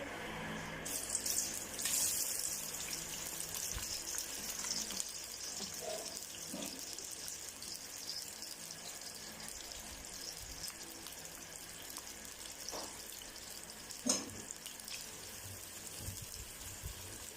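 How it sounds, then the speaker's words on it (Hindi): Three large sliced onions frying in hot oil over a full flame for chicken korma, giving a steady, hissing sizzle that runs throughout with a few sharper crackles and no voices. "यहाँ फुल फ्लेम पर प्याज को हम हल्का गोल्डन होने तक जो है वो फ्राई करेंगे।"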